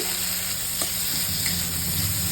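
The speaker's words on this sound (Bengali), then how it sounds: "ভালো করে নেড়ে নিচ্ছি" Garlic, onion and green chili frying in oil in a wok, a dense continuous sizzle close by with a couple of soft stirring knocks.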